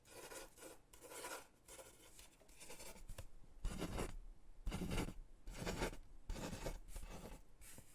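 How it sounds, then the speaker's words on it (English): Pen scratching across paper in soft, close strokes, arriving in bursts of writing with brief pauses between them and no talking. "I'll write that down then."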